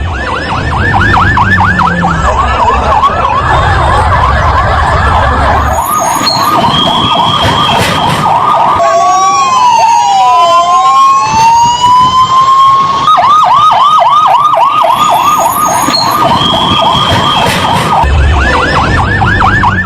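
Fire brigade vehicles arrive at a plane crash site, their loud wailing and yelping sirens overlapping and sweeping up and down, sometimes in quick warbles and sometimes in slow rising tones, over a dense background of traffic and crowd noise.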